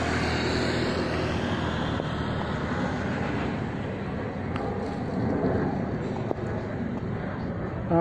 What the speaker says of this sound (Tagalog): Ayun na naman yung aeroplano.